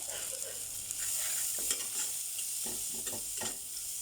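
A utensil scrapes and clicks against a frying pan in several quick strokes, stirring turmeric into butter, while it sizzles with a steady hiss underneath.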